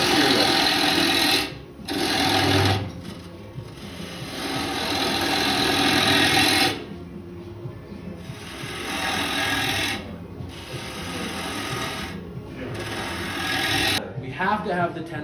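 A wood lathe spins a bowl blank while a tool cuts a tenon, giving a loud, steady rushing scrape in long passes broken by brief pauses, with a voice heard near the end.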